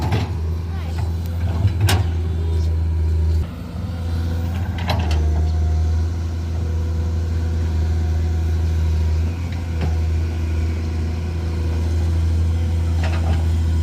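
A Komatsu PC200-8 excavator levels ground in soft soil, its diesel engine droning steadily up close with a few sharp metallic knocks and clanks, while someone talks over the machine.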